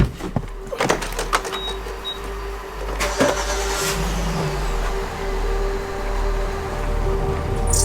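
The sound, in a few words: car driving on a road trip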